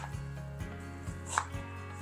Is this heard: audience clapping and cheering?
no